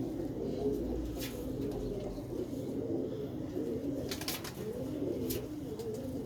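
A flock of fancy pigeons kept in a loft keeps up a steady, overlapping cooing drone, broken by occasional sharp rustles and taps as birds move about.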